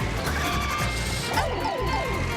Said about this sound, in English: I'm crashing one car into another.